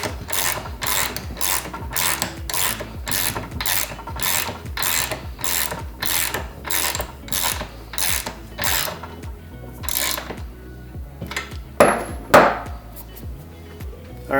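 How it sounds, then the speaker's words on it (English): A nylon nut is hand-tightened onto the bed bar pivot bolt of a Toro Greensmaster Flex 2100 cutting unit, producing a close, steady run of ratcheting clicks in even rhythm, ending with a brief clatter. "I'm just going to tighten it up by hand here."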